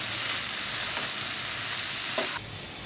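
Spices frying in oil in a pan with turmeric and salt, a continuous close sizzle with light stirring, cutting off abruptly near the end.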